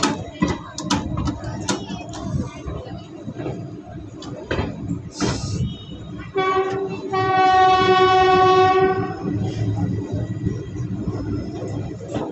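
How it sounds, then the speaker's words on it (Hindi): A train departing Hajipur station with a long loud horn blast, clanking wagons and rolling wheels, plus scattered background noise. "हाजीपुर से हमारी ट्रेन का डिपार्चर।"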